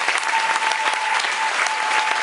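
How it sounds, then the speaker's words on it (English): An audience on a cruise ship game show gives the competing couples a dense, steady round of applause, loud and continuous from start to finish. "Give all of our couples a round of applause."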